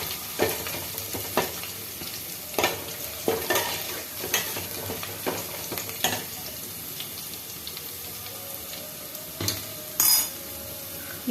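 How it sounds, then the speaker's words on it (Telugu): Chopped green chillies and ginger fry in a pan, with a soft continuous sizzle broken by repeated clinks and scrapes of a spoon stirring, fairly quiet and close. "పచ్చిమిర్చి, అల్లము అవన్నీ కూడా మనం చిన్నగా చాప్ చేసాం కదా, అవి కూడా వేసేద్దాం. కొద్దిగా పచ్చివాసన పోయేదాకా వేయించుకుందాం."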